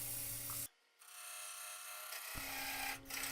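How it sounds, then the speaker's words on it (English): Steady dry rasping of sandpaper rubbing by hand on the inside of a segmented wooden bowl, continuous and close, broken by a brief pause partway through. "the final sanding of the inside of the bowl was done by hand"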